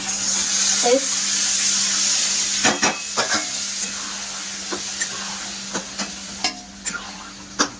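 Pav bhaji masala sizzles steadily in oil while a spoon stirs it, with a low hum running underneath and a series of sharp scraping knocks against the pan toward the end.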